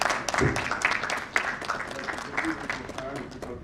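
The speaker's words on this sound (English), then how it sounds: "we should give him a round of applause" An audience at a leadership summit gives a round of applause for a dean, moderately loud clapping of many hands under and around scattered voices.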